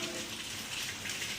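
Steady rain hissing down, a dense wash of falling water with no voices, continuous and fairly close for a brief moment.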